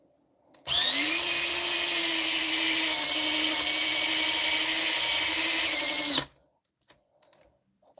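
An electric resin sanding tool runs steadily for about five and a half seconds as it smooths a resin piece, giving a loud, even, high-pitched whine with a constant motor hum that starts and stops abruptly, with no talking.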